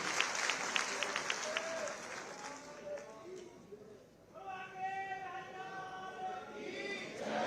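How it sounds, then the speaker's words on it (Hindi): A crowd applauds at a live public event in Mathura attended by the Chief Minister, with clapping strongest at first and then thinning under a loudspeaker voice and tonal sounds, moderately distant and mixed with ambient crowd noise. "इन क्षणों की शोभा और बढ़ेगी अगर आप जोरदार तालियां बजाएंगे इन सुंदर क्षणों के लिए"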